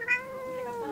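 A cat gives a single clear, fairly close meow that rises and then trails off in a long, slightly drawn-out tone, with no talk over it.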